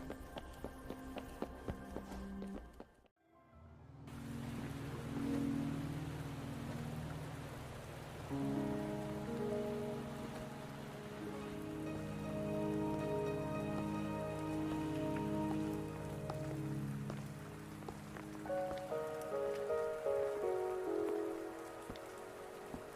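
Steady rain patter in Wuthering Waves over an ambient musical score, continuous and moderately loud after a brief silent gap near the start.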